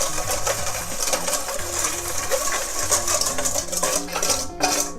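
Oil and seasoning are mixed in a bowl with rapid, continuous clinking and scraping of a utensil against the sides, close and busy throughout, and no talking.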